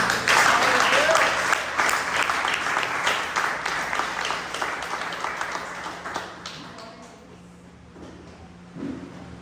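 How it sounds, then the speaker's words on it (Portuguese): A church congregation applauds loudly at first, then the clapping gradually thins out and fades to a few scattered claps. "Pode aplaudir Jesus."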